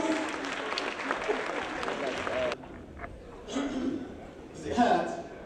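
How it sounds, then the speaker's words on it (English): An audience claps for a woman at a health awareness day event, a burst of steady applause lasting a couple of seconds, then fading into scattered claps and brief murmurs. "Give her a round of applause."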